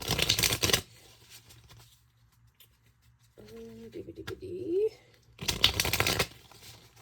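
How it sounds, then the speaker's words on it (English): Two bursts of tarot card shuffling, a riffle at the start and another near the end, with quieter soft sounds and a faint voice in between. "I'm going to shuffle these."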